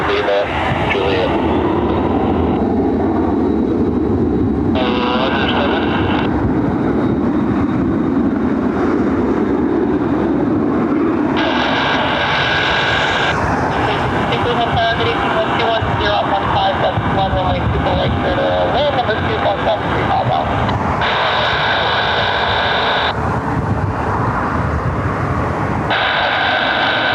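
Jet departures rolling out of Cleveland Hopkins airport, a Citation business jet among them, give a broad, steady roar that swells and fades across the scene beneath intermittent talk.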